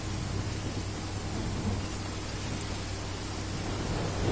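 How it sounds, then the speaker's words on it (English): Steady, dense video game rain in the Sumeru region hisses evenly throughout, with a low rumble running underneath like distant thunder, no voices present. "Oh no, okay, never mind, it's still raining."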